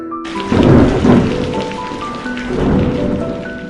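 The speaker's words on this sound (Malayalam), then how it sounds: "ഇടിവെട്ടി മഴ പെയ്യാൻ തുടങ്ങി" Steady heavy rain pours down while deep rolls of thunder rumble through, swelling loudly twice over the continuous downpour.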